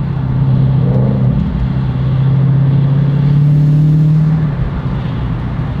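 Straight-piped car revving hard at a slide meet, a loud, steady low engine drone that swells and holds for several seconds, then eases off near the end.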